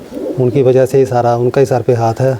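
A pigeon coos in a breeder's loft as someone speaks over it in Hindi, giving soft, repeated throaty calls close by that are partly masked by the talking.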